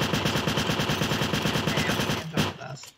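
Rapid automatic gunfire from a Minecraft gun mod rattles in a fast, even burst, loud and close, then cuts off into a few scattered shots and fades out.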